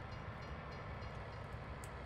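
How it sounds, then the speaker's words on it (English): An American-style freight train with American-looking cars rolls past in Farming Simulator 19, a steady, loud rumbling roar with no pauses or talk. "They got an actual American-looking train in America with American-looking cars."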